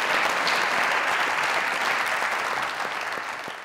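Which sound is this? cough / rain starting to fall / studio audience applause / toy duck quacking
studio audience applause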